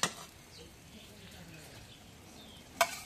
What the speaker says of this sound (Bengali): এখন ডিম ভাজি হয়ে গেছে, এখন নামাই দিই।